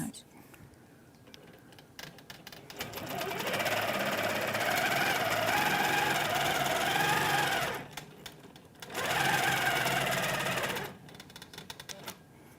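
Sewing machine stitching a quilt in a long steady whirring burst, a short pause, then a second shorter run, close and clear, with faint room noise in the gaps.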